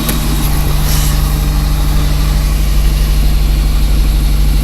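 A car engine idles after a cold start in snow and sub-zero temperatures, a loud, steady low rumble with a constant hum running throughout, close by and without speech.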